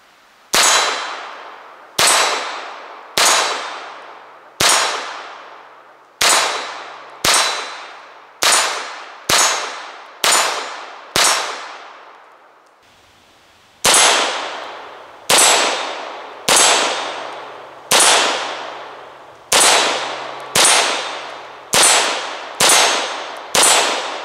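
A Ruger Mk IV pistol fires at a steel target plate, and each hit rings out as a sharp metallic clang with a fading tail, about twenty strikes in quick regular strings split by one short pause.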